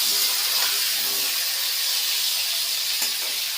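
Pointed gourd (potol) frying in hot oil, giving a loud continuous hiss and sizzle that stays steady throughout, close up, with no voices.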